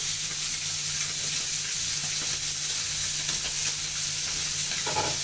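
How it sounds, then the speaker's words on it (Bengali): Kalai greens and green chillies hit a hot pan, giving a steady, close sizzle and frying hiss with soft stirring scrapes throughout and no talking. "কাঁচামরিচগুলো দিয়ে আমি শাকগুলো দিয়ে দেবো"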